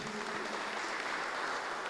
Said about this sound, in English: Let us give a loud of applause to our speaker.